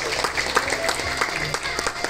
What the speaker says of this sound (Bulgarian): Аплодисментите от гостите.